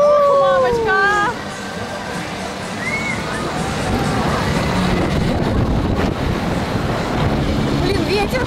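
Strong wind buffets the microphone in a continuous rushing roar, with waves in the background and a few brief voices at the start.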